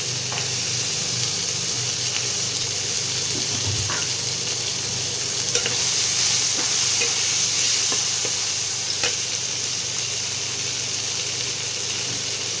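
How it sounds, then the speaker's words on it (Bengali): Tomatoes and green peas fry in a pan with a steady, moderate sizzle and hiss, broken by occasional faint stirring clicks, with no voices. "টমেটো আর কড়াইশুঁটিটা একটু ভাজা ভাজা করে দিতে হবে"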